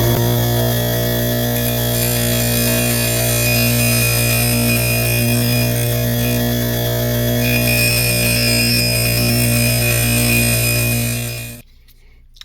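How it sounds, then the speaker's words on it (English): A belt grinder shapes a 14C28N steel Bowie knife blade, a loud, steady machine whine and hum with strong tonal drone that abruptly stops near the end. "we're going to get the Bowie started with him on this grinder"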